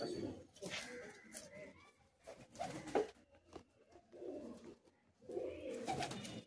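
Madras pigeons flutter and shuffle nearby while soft cooing rises and falls in short bursts, with someone talking over the birds.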